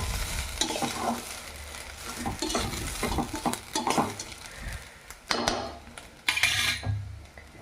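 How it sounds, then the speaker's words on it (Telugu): Rice being stirred and mixed in a pan for vegetable lemon rice, with repeated close scraping and clinking of a spoon against the metal pan over a light sizzle, steady at first and then in a few sharper strokes. "రైస్ వేసుకొని ఒక్కసారి అంతా కలిసేటట్టు కలదిప్పుకుందాం"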